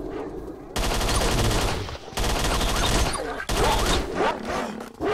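Rapid bursts of SMG gunfire in the S.T.A.L.K.E.R. Shadow of Chernobyl video game, loud and dense, with sustained automatic volleys broken by short gaps and a cluttered game soundscape behind.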